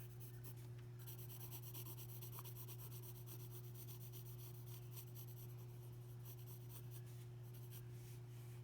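Pencil sketching eyebrows on paper for a portrait, soft scratchy strokes rubbing across the sheet in short repeated bursts, close and quiet over a constant low hum.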